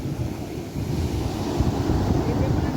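Surf rolling onto a beach in Kerala, a steady broad wash of waves mixed with gusty wind buffeting the microphone, continuous and fairly loud with no break.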